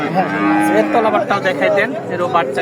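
An eight-month-old heifer calf of the Rani breed lows at a busy livestock market, its drawn-out moos carrying clearly over the steady murmur of bargaining voices nearby.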